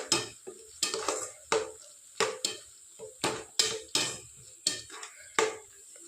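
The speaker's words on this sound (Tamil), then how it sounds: "இப்போ ஒரு கிண்டிக்கலாம்." A spoon scrapes and clacks rhythmically against a pan while stirring goat blood fry with grated coconut, about a dozen sharp close strokes over a faint sizzle, no talking.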